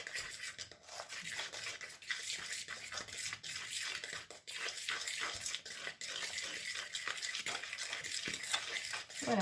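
Steady wet scraping and swishing of a utensil stirring a mixture for a pear and salted caramel yule log, fairly close and continuous with faint rhythmic strokes and no talk.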